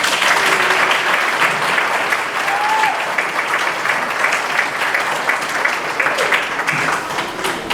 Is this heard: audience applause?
yes